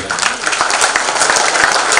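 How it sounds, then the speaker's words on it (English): An audience at an engineering awards ceremony claps steadily, a dense, continuous wash of many hands filling the hall at full loudness. "Shall we all put our hands together and give"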